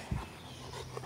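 An intense female dog in heat pants close by in a brief, faint burst of quick breaths against a quiet background.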